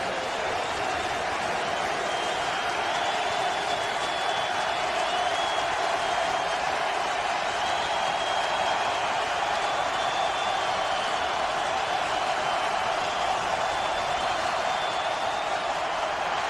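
A packed NFL stadium crowd at FedEx Field during a 2010 Green Bay Packers at Washington Redskins game roars loudly and steadily, a dense, unbroken wall of cheering with faint whistle-like tones riding on top.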